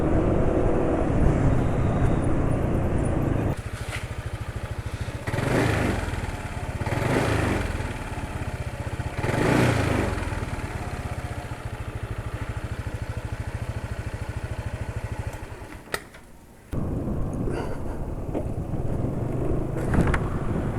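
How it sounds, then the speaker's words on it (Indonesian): A motorcycle engine running on Castello oil idles steadily and loudly up close, with a rough, droning rumble that briefly cuts out near the end before resuming. "suara mesinnya pakai oli Castello"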